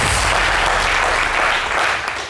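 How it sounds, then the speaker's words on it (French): Studio audience applause on a French entertainment talk show, a dense, loud wash of clapping that holds steady and tapers slightly at the end. "Qu'on applaudit, merci beaucoup."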